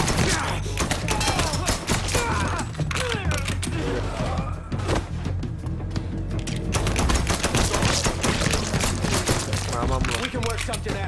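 Rapid gunfire from a Mafia III gunfight, with dense bursts of shots and thuds running continuously alongside shouted voices and game dialogue.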